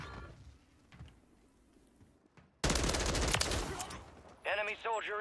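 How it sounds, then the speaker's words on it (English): Rapid gunfire in the Warzone video game, a sudden loud burst that cuts in after a quiet stretch and continues dense for a couple of seconds, followed by game voice chatter. "Oh, he shot the other kid."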